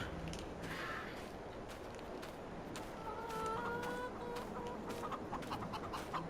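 Chickens clucking in a console farming video game on PS5, repeated short clucks and calls over a steady ambient farm background, moderately faint with no voices.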